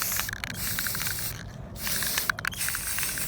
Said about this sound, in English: And I'm just gonna start spraying.